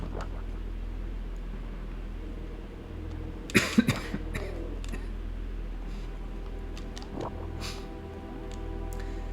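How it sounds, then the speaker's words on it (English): A person coughs in a short burst of a few sharp coughs in the middle, fairly close, followed by a fainter cough later over a quiet background hum. "And there's that cough"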